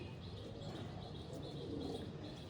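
Jamuni Panja pigeons, kept as Andhra-type fancy pigeons, coo softly and continuously in a quiet, low murmur, with faint chirps over a dull background and no talking.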